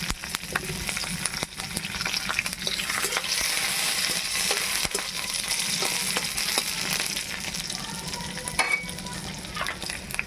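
Green chili and small shrimp frying in hot oil in a pan, with a constant loud sizzle and a spatula stirring and scraping close up throughout.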